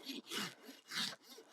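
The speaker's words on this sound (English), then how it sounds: "I do only rasp the sort of height I need" A farrier's rasp scrapes across a horse's hoof in three quick rhythmic strokes, each a short gritty rasping sweep, close by and fairly quiet.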